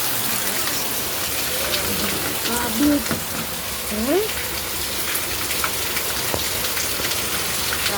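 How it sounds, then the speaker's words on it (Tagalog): Heavy downpour in Metro Manila with rapid flooding, a loud, steady roar of rain on surfaces throughout, while people speak briefly over it. "Grabe, sobrang lakas ng ulan guys."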